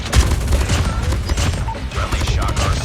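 Rapid bursts of fire from the OTs 9 Malebranche gun in Call of Duty Mobile, with dense overlapping shots and booms rattling close and loud, with a voice talking over the shooting.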